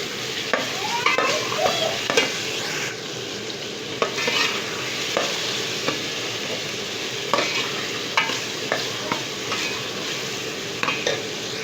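Ground onion and potatoes fry in a karahi for Peshawari chicken karahi, with a steady sizzle broken by repeated scraping strokes of a stirring spoon, close and alone, no talking.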